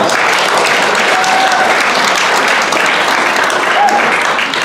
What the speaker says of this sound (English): please give those two individuals a big round of applause